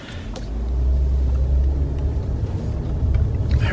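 A 2013 Toyota Avalon rolls down the road, its engine and tire noise a steady low rumble heard from inside the cabin, with no talking.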